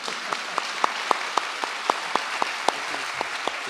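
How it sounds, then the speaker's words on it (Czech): Sparse, slow rhythmic clapping from a small audience at a talk in Ostrava, sharp individual claps landing about every quarter second without voices. "si taky zasluhuje rozhodně potlesk"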